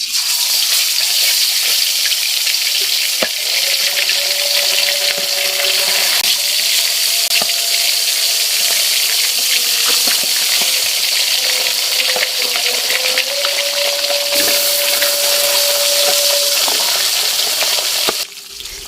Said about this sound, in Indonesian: aku panasin minyak goreng untuk goreng ikan ya